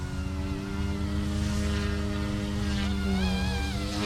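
A Blade Infusion 180 RC helicopter flying in idle-up, giving a steady, close, high motor and rotor whine whose pitch bends and shifts near the end.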